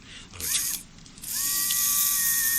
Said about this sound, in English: What I use for that is a little battery-powered Dremel tool with a wire brush